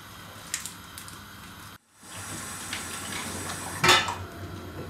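A metal lid meets an appam pan with a short clatter, then a brief hush before a soft cooking hiss and another sharp metallic clink.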